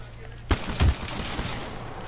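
Video game gunfire: a short burst of loud, close shots, first a sharp crack and then a quick cluster of blasts, fading into a brief rumbling tail.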